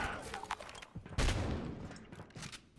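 Bursts of gunfire in a shooter video game during a fight against riot-gear enemies with shotguns, several sharp shots and a heavier blast midway, fairly close, over a noisy game background.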